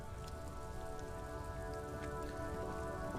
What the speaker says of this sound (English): Now it's raining too.